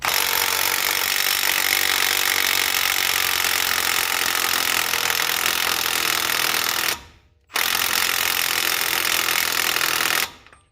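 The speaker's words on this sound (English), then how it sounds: "you can hear it just dying down as it's hammering" A Milwaukee M12 3/8-inch stubby impact wrench hammers loudly and continuously on a weakening battery, with a brief cut-out about two-thirds through before it resumes and then stops.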